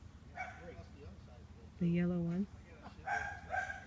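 A neighbor's dog barks once, loud and drawn out, at a distance in a Connecticut front yard, with someone talking before and after.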